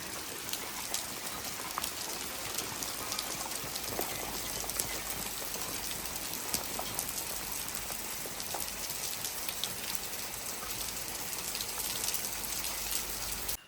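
Steady rain falling and pattering on surfaces, a dense continuous hiss with scattered drops, no voices.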